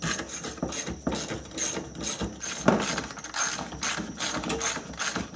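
Hand ratchet loosening 8 mm bolts on a Nissan Maxima cooling fan shroud, rapid clicking pawl strokes repeated in quick rhythmic bursts, close and fairly loud with no talk.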